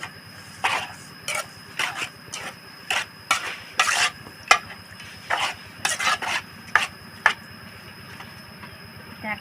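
Fermented fish (pla daek) mixture being stirred, heard as a series of rhythmic wet scraping strokes in irregular bursts, close and moderately loud, with a low steady hum beneath.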